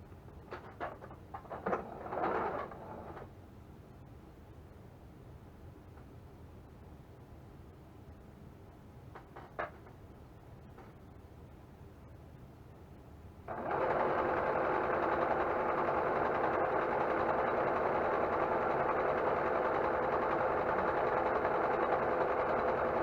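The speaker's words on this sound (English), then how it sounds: "And I'm going to run that through the sewing machine with the zipper foot." Sewing machine fitted with a zipper foot stitching fabric for a patchwork cross stitch clutch, quiet handling and a few clicks at first, then a sudden steady whirring motor run lasting about ten seconds.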